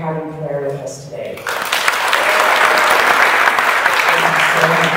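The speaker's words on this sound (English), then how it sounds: "I want to say just another big round of applause and warm welcome" Audience applause at a Sunday church service breaks out after a spoken line and swells into steady, loud clapping that continues to the end.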